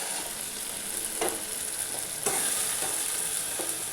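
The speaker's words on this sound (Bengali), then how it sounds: "দেখুন মশলাটা একদম সুন্দর করে ভাজা হয়ে গেছে। এবার আমি পনিরগুলো দিয়ে দিচ্ছি।" Paneer pieces go into a spice paste frying in oil, bringing a close, steady sizzle broken by a few scraping stirring strokes.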